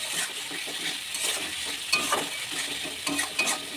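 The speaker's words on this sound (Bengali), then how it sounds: "আর এই যে এইখানে আলুটা কিন্তু কষাচ্ছি" Potatoes being stir-fried dry in a pan with greens, a steady sizzle and scraping stir with a few brighter clinks, close and alone with no talk.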